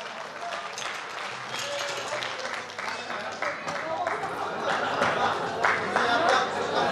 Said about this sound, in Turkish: Alkış gelsin Zümbül Maiko'ya